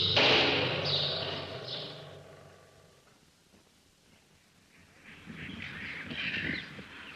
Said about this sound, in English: we're just passing a cage with some birds called Quaker parakeets, which are simply enormous, and they make quite a lot of noise